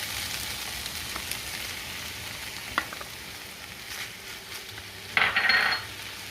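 Rice frying in a pan with a quiet steady sizzle and a few small taps, then a short louder rattling burst as green peas drop in near the end, with no voices.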